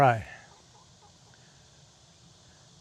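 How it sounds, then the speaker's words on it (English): Red, a rooster inside a backyard hen house, lets out a loud crow that cuts off abruptly, leaving a quiet stretch with faint clucking and rustling in the coop. "Probably hear Red in there crowing."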